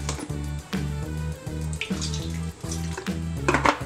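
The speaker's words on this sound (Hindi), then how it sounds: "ऐसे इसमें आधा गिलास के करीब पानी डाल लेना है" Water pours into a bowl in a kitchen, ahead of flour being added for dough, running with an uneven splashing trickle that is fairly quiet and close.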